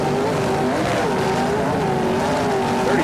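A drag race car runs under throttle, a loud, steady engine roar with wavering pitch filling the whole stretch, probably heard from trackside.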